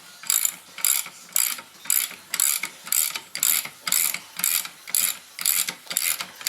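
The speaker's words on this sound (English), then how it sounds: "Let me tighten this side up just a little bit more." A hand ratchet tightens a coil spring compressor on a 1995–2006 Neon rear strut, giving a steady run of about a dozen loud, close, evenly spaced ratcheting strokes with brief pauses between them.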